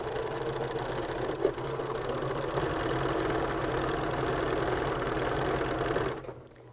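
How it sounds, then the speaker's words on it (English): A sewing machine loaded with blue thread stitches steadily along a T-shirt collar for a quilt, giving a continuous close mechanical whir that stops near the end. "I have matching blue thread in my machine right now, and I'm simply going to sew along the collar"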